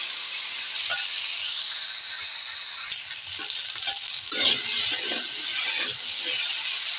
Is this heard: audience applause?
no